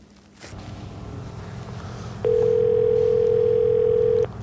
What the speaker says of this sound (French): je vais utiliser un joker en appelant mon ami